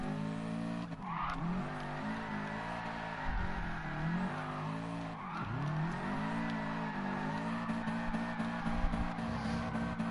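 A tuned all-wheel-drive race car in a PS4 racing game revs hard and loud through short gears, its engine note rising and dropping across shifts with tyre squeal and skidding mixed in throughout.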